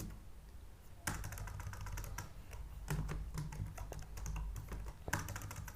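A code comment being typed on a computer keyboard, heard as quick, close clicking keystrokes in uneven bursts with short pauses between them.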